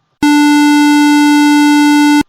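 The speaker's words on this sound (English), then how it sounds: "As you get closer, you will hear Re," Sustained Re note from an AUSION distance-sensing device as it nears a wall, one loud, pure-sounding electronic tone with bright overtones lasting around two seconds, switching on and off sharply in otherwise silent surroundings.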